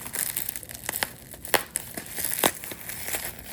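Crinkling and tearing of plastic packaging as a crystal order is cut open, with irregular sharp crackles and rustles close by and no talking.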